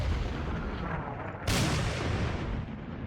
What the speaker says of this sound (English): Perhaps I can use the 15th Light Artillery Battalion and the 9th Heavy Artillery Battalion to start bombing a little bit of this guy.